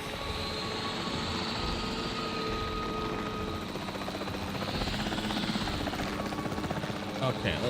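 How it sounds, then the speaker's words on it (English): Capture team helicopter in Jurassic World Evolution 3, a steady loud rotor drone with rhythmic blade chop that runs throughout and builds slightly toward the end, with talking over it. "The priority needs to be tranquilizing it with the capture team chopper."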